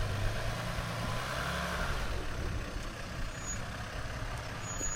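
An off-road vehicle's engine holds a steady low rumble while it climbs an obstacle at an adventure park on an overland trip. The throttle is eased gently and the sound stays close and continuous, with no one speaking.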